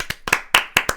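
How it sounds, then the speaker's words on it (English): A short burst of hand clapping at a pub night, four or five sharp, closely spaced claps from a small group, close and crisp with brief silences between them. "I think we should give him a round of applause."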